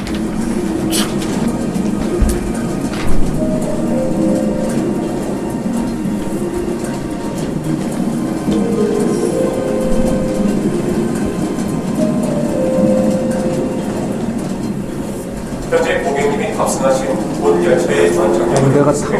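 A model train rumbles and clicks steadily along its track as it departs, under a constant hum, with a few tonal chimes and faint chatter in the background.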